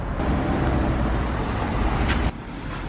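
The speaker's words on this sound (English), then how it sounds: "It is a really loud car." An Audi RS3 saloon rumbles loudly nearby, a dense low engine drone that holds steady before dropping off sharply near the end.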